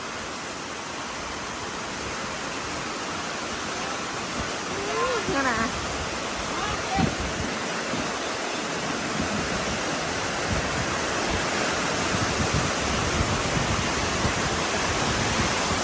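Heavy rain pouring down in a steady, dense roar that fills the whole clip without letting up, loud and continuous, with faint vocal sounds briefly heard under the downpour.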